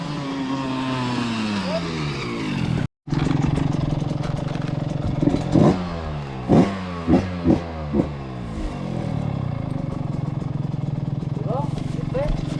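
A 125 dirt bike engine hums and revs near a motocross track, a steady drone with several short throttle blips in the middle, while people talk over it.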